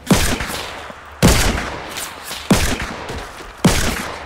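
Four loud, widely spaced gunshots in Fortnite, each a sharp crack trailing into a long echoing decay, roughly a second apart and heard alone without talk.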